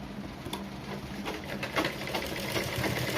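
A sewing machine stitches a blouse seam in a steady, continuous whir with a fine rapid pulse, close and fairly loud, with no talking.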